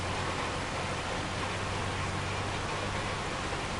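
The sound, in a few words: rain sound effect in Farming Simulator 25 video game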